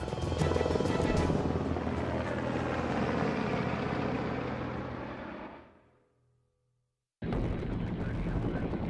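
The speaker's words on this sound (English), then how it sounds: "flies with one of the most sophisticated helicopters in the US Army, the Black Hawk" A US Army Black Hawk military helicopter roars loudly with a dense, thumping rotor rumble that fades out, falls silent briefly, then bursts back in at full strength.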